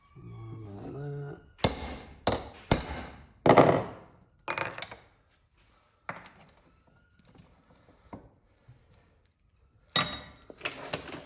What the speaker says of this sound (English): We'll obviously have to centre punch it first.